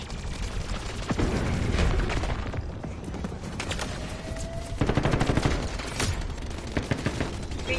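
Gunfire from shooting zombies in the video game MW3 Zombies, dense bursts of rapid automatic shots with booming hits and mechanical clicks, loud and continuous across the whole stretch.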